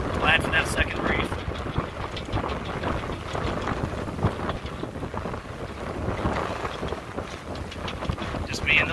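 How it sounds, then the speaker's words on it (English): Strong wind gusting to 20 knots roars steadily across the microphone aboard a MacGregor 26S sailboat, with gusting buffets and faint talk in the background. "We just checked the wind. We are seeing gusts of 20 knots."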